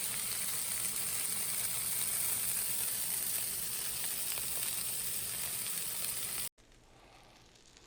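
Hamburger buns hit a hot griddle with a loud, even sizzle that holds steady for several seconds, then cuts off abruptly to quiet room noise.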